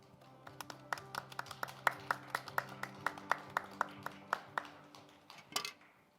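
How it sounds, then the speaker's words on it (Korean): A small audience claps at a forum session on a rural basic income experiment, a sparse, uneven run of distinct handclaps at moderate distance that thins out after about five seconds. "큰 박수로 맞아주시기 바랍니다."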